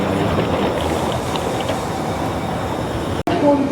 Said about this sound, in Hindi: एक और ट्रेन।